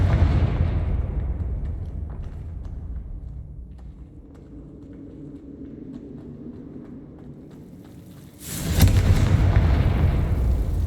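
A Confringo blasting curse explosion in Hogwarts Legacy, a low rumbling roar that sustains, then a sudden loud burst near the end that stays strong and bright.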